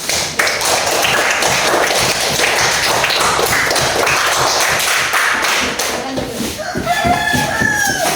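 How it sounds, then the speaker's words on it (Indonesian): Students in a classroom clap for a group presenting a recitation, a dense, loud, steady burst of applause filling the whole stretch, with a brief voice near the end. "Tepuk tangan untuk kelompok."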